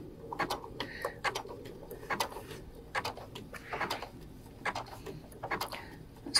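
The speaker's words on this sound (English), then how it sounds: "So let's do a little bit of stitching and see" A Brother sewing machine satin stitching an applique, sounding as short bursts of rapid mechanical whirring and clatter that start and stop repeatedly, fairly quiet and close.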